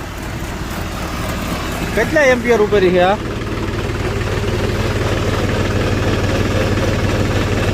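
A tractor engine drones steadily and low throughout at an even, slow idle, while a person speaks briefly over it partway through.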